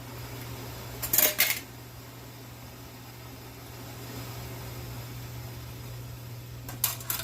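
Metal canning jar rings being taken out for pickle canning give a short burst of clattering metallic clinks, then a quieter steady hum with low rustling, and another brief clink near the end.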